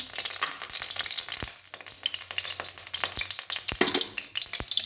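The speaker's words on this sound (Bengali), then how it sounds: "কড়াইটা গরম হয়ে গেছে, তো কড়াইটাতে তেল দিয়ে দিচ্ছি।" Steady hiss and crackle of hot oil heating in a wok, continuous and fairly close, with occasional small pops and clicks.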